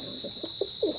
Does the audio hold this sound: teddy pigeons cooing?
yes